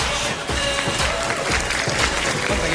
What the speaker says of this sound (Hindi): प्लीज जोरदार ताली में सब करण जौहर के लिए